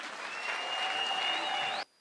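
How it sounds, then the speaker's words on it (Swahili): Crowd applause at an outdoor rally at Etago Green Stadium in Kisii County, a steady wash of distant clapping with a faint whistle over it, cutting off abruptly near the end. "tumukaribishe na makofi tafadhali"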